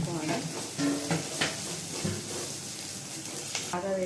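Minced mutton keema with coriander powder and garam masala frying in a pan, a steady close sizzle under repeated stirring scrapes, with a voice faintly present in the background.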